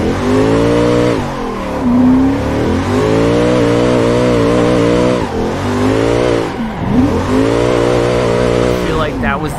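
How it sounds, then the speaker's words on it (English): Toyota race car engine in a racing game, loud and close, revving high through repeated upshifts with brief dips between gears and a final burst of throttle near the end. "I do like how this Toyota is running right now"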